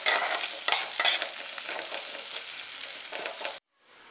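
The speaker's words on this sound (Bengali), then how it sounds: "থেতো করা রসুনটা ভালো করে ফ্রাই করে নেব" Crushed garlic frying in hot oil, a loud steady sizzle with a few sharp stirring scrapes, cutting off abruptly near the end and returning faintly.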